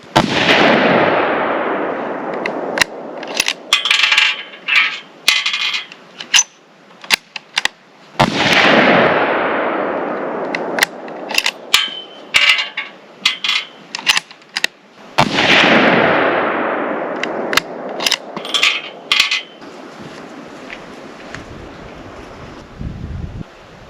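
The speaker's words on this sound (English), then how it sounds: "let's send a couple more rounds and see where we at" Three loud, sharp rifle shots from a Savage Model 10, each followed by a long rolling echo across open ground, with wind buffeting the microphone and small clicks and rustles between shots.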